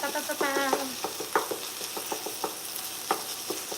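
Tofu fries in a pan with a steady sizzle, broken up by scraping and tapping from stirring, close and moderately loud, with no voices.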